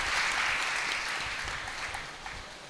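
Audience clapping at a Guru Purnima religious gathering, a sustained wash of applause from many hands that slowly fades, heard alone.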